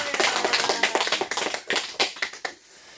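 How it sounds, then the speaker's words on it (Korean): A church congregation claps together in thanks to God, a dense burst of many hands that fades out near the end. "하나님께 감사의 박수 한번 치겠습니다"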